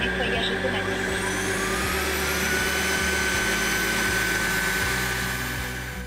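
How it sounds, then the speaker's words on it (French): An H200 Pro robot vacuum runs its self-cleaning cycle on its docking base, giving off a loud, steady whirring drone that holds throughout and eases off slightly at the end. "Avec le H200 Pro, il y a juste à appuyer du coup sur le petit bouton, il va lancer l'auto-nettoyage tout seul"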